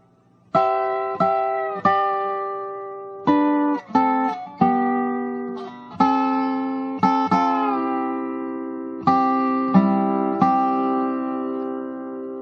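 Resonator dobro line, a quick run of a dozen or so plucked, slid notes with bright metallic ring, clear and solo with no talking.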